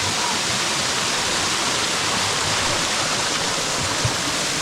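A waterfall near a village roars as a dense, steady rush of falling water, loud and unbroken throughout with no voices.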